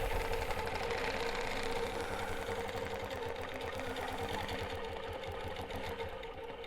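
A longarm quilting sewing machine stitches continuous curve flowers guided by rulers, a steady, close mechanical whir with rapid needle rhythm running unbroken throughout.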